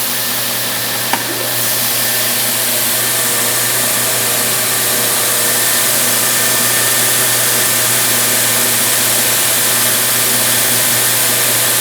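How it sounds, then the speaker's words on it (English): An Oakley H-660 dual-sided oscillating edge sander starts with a brief click, then settles into a loud, steady motor whine and hum that runs alone without pause. "We're going to come in and start the machine real fast."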